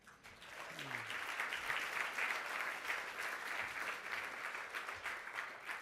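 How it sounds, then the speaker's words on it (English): An audience claps steadily throughout, a full even wash of applause from a crowd at a public event with a politician, moderately distant and sustained for several seconds. "Clap for the trades."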